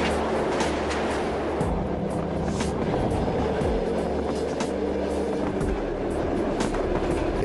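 A long-distance train crossing Siberia in extreme cold keeps up a loud, continuous rumble, with rhythmic clacks of wheels over rail joints and occasional metallic squeals throughout.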